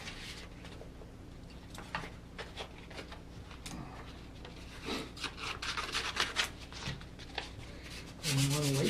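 A military training rifle gets a light hand sanding with 220-grit sandpaper, giving a close, soft, uneven series of scratchy rubbing strokes, with a voice briefly at the end.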